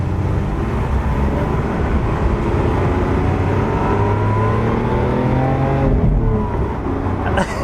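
Lamborghini Aventador SV V12 engine running in Strada mode on six cylinders: a steady, loud, close low rumble with a rising rev partway through, heard from inside the car with no talking.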